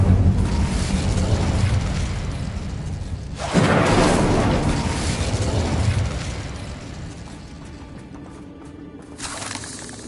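Incendio fire spell in the Hogwarts Legacy video game, a loud whooshing burst of flame that erupts suddenly, roars for a couple of seconds and then fades into quieter crackling and a brief later flare.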